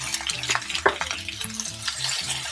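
Finely chopped ginger and garlic sizzle in a hot pan for a South Indian sambar, a close, steady crackle of frying broken by stirring scrapes, with no talk.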